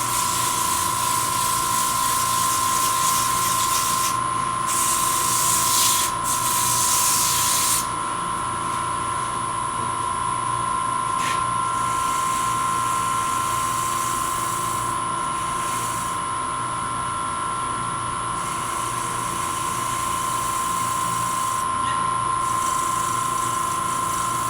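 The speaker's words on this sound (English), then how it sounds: "So this takes longer to sand than any place else on this lid." Sandpaper pressed against the spinning lid of a small wooden nesting box on a lathe, with a steady, loud whirring hiss and a constant motor whine, plus brief brighter rasps as the paper touches the edge.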